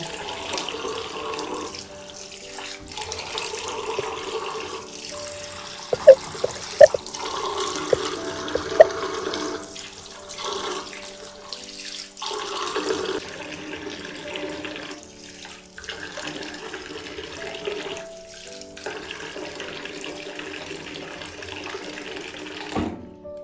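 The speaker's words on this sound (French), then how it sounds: "à la fin, ce que je fais souvent, je nettoie avec l'eau" Tap water runs steadily into a sink while a face is rinsed after a homemade scrub, with splashes and a few small clinks over a soft, continuous flow.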